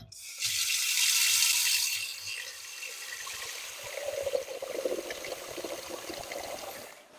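Tap water gushing into a pan, a loud hissing stream at first that turns to a deeper burbling fill as the pan takes on water, close and steady without talk.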